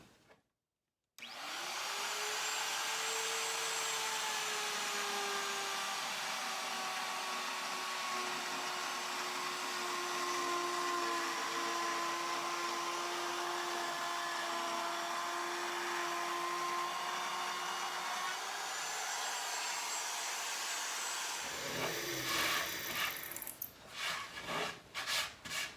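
A power saw cuts a dado into wood for a tall cabinet: a loud, steady whine runs for about twenty seconds with no talk, then ends in a few short clatters.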